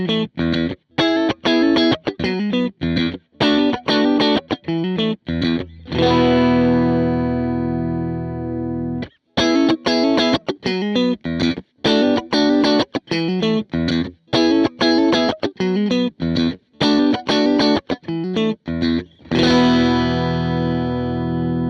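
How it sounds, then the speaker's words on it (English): Electric guitar through an Empress Compressor MKii pedal playing choppy, evenly squashed chords and notes with a smooth, compressed sustain, a few ringing held chords between the rhythmic passages, no voices. "You'll be hearing some clips of that compressor throughout this video"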